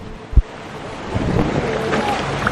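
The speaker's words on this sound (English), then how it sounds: "This is our boat." A tour boat on the sea off the Phi Phi Islands, with steady wind buffeting the microphone and washing waves, plus a single close thump early on.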